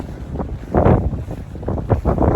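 Gusty wind buffets the microphone outdoors on an Appalachian Trail hilltop, a steady rumbling roar that swells and eases in uneven surges.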